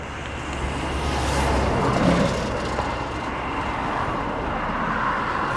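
A fighter jet flies past, leaving a broad, roaring rush that swells to a peak near the middle and then holds as a steady distant roar.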